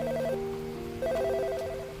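Phone alert in a radio drama, an electronic ringtone of repeating bright pulsed tones over a steady hum, two short bursts close and clear with no voices.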